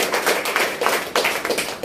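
Audience clapping loudly at an indoor workshop program, a fast, dense patter of many hands in close rhythmic bursts, with no talking.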